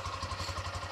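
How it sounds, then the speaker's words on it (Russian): A Lifan KPR200 motorcycle engine idles steadily with a heavily muffled exhaust, a quiet continuous mid-pitched hum with a faint rhythmic pulsing and light mechanical clatter from the piston. "Сам двигатель практически не слышно, не слышно выхлопной, но достаточно слышно, как сюрчит поршенек."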